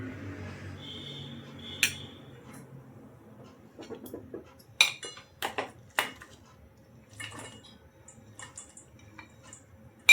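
Chocolate being stirred into warm cream for ganache, heard as scattered light spoon and utensil clicks against a pot, with a few sharper taps, quiet and close.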